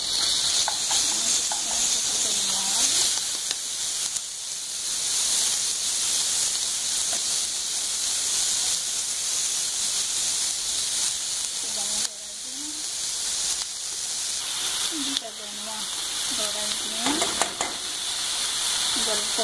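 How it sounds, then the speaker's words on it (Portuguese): Garlic and onion frying in a hot pan for chicken strogonoff give a steady, loud sizzle with hissing steam, stirred now and then, while a voice speaks faintly in the background. "Agora eu vou levar ao fogo o alho e a cebola"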